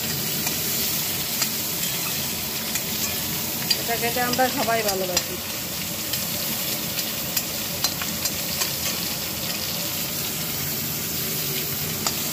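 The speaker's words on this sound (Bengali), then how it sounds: "নিম পাতা দিয়ে বেগুন দিয়ে ভাজা হচ্ছে" Brinjal frying with neem leaves in a pan gives a steady, close sizzle with occasional stirring scrapes, and a voice speaks briefly over it.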